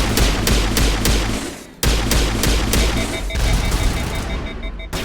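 Rapid, heavy weapon fire from a Mass Effect battle pounds out in a steady repeated rhythm, loud and close, with a brief break before the barrage resumes amid booming impacts.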